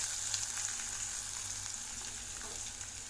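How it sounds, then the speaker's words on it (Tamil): Finely chopped large onion sizzles steadily in hot oil with cumin seeds in a pan for masala sundal, a constant close hiss with faint stirring and no voices. "வெங்காயத்தை லேசாக வதக்கி விட்டுக்கலாம்"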